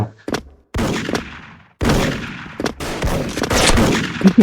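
Gunfire in the online shooter Special Force, with a Dragunov rifle in play: loud, close bursts of shots in separated clusters, sharp rattling volleys broken by short silences.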